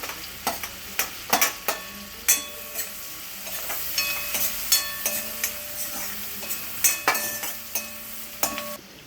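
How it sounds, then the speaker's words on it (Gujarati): Vegetables sauté in a pan for a Jain Hyderabadi vegetable biryani, giving a steady close sizzle broken by repeated sharp clinks and scrapes of a spoon stirring against the pan, with no talk. "આને આપણે 1 મિનિટ માટે સોતળી નાખવાનું છે"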